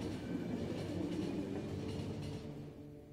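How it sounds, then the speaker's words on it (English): Train from the game The Final Station rolling steadily on rails, a continuous low rumble with a rhythmic rattle that holds throughout and eases slightly near the end. "it's stopping the train"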